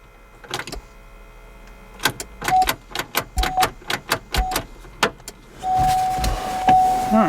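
A Pontiac Grand Prix that will not start is cranked with the key in short repeated bursts, each one a near mechanical churn with brief clicks, ending in a longer stretch of strained whirring without the engine catching.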